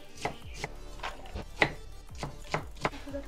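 Knife chopping carrots on a cutting board for veg Manchurian gravy, about ten sharp, evenly spaced chops heard close up with no talking.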